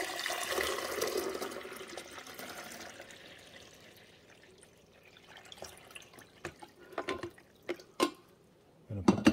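Water and vinegar splash and trickle steadily into the reservoir of a Cuisinart 12-cup coffee maker, tapering off into scattered drips and small clunks near the end.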